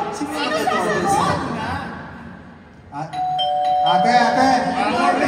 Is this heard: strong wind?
no